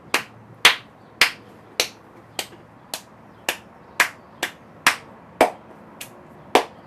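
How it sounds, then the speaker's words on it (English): One person claps hands near a Meeting Owl 360-degree conference camera, a dozen crisp single claps spaced about half a second apart in an uneven rhythm, close and loud in an otherwise quiet room. "Go ahead and clap."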